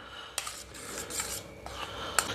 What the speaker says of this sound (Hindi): इन सबको हम अच्छे तरीके से मिक्स कर लेंगे।